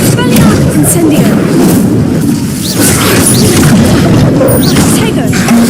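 An Incendio fire spell bursts in Hogwarts Legacy, a loud booming, crackling blast that rumbles on for several seconds amid other combat effects, with a voice calling out over it.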